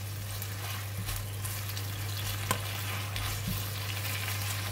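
Kailan stir-fry with salted fish sizzles steadily in a pan while a utensil stirs through it, with a steady hiss and a few soft scraping knocks and no talk.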